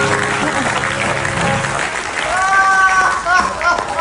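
A studio audience at an Indonesian comedy talk show bursts into sustained clapping and cheering, with a voice speaking over the applause.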